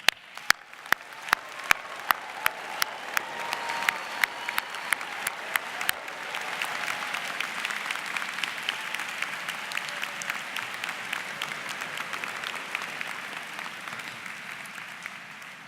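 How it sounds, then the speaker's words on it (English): Audience applause at a 2018 engineering recognition ceremony, beginning with a few sharp individual claps that swell into sustained, dense clapping from a large seated crowd in a hall, steady and moderately loud throughout. "stand so we can give them a thunderous applause and appreciation"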